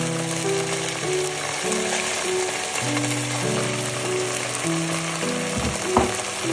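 Ground tomato paste frying for Kolkata-style chicken bharta, a steady crackling sizzle under tonal background music, with one brief stir bump near the end.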